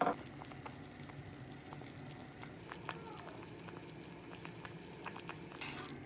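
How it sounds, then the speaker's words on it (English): Sago pearls (sabudana) boiling in hot water in a deep pan for a mango dessert, a faint steady bubbling patter with soft pops and light clinks, close but quiet, no talk. "I'm going to add the sago, sabudana, and let it boil till this soft."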